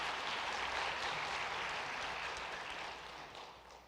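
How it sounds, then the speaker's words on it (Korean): A congregation at a Sunday church service claps to welcome a visiting missionary, a broad wash of applause heard from a distance that holds steady and then slowly fades toward the end. "큰 박수로 환영하겠습니다"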